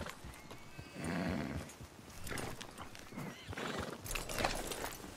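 Horse neighing and clip-clopping hooves in the Red Dead Redemption II video game, a whinny followed by uneven hoofbeats on a track, fairly close with some background movement.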